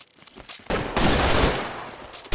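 Gunfire in the video game L.A. Noire, a dense, loud burst of rapid overlapping shots and blasts that swells and sustains, then cuts off with another burst at the end.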